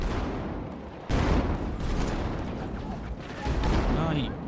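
A frag grenade detonates in a shooter video game amid heavy gunfire, a loud blast followed by continuous rattling shots and booms.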